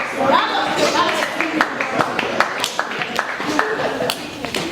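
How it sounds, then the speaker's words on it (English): Rhythmic hand clapping at a youth drumline practice, a quick run of sharp, evenly spaced claps close by, mixed with voices talking and chanting over them. "Clap, clap, clap, clap, clap."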